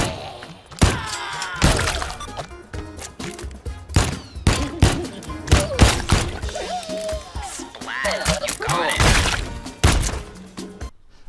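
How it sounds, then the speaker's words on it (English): Gunshots fired at fruit in a VR grocery store shooting game: a rapid series of loud, sharp blasts mixed with splattering, shattering impacts and thuds, coming in irregular bursts. "So take the guns given to you and shoot the fruit."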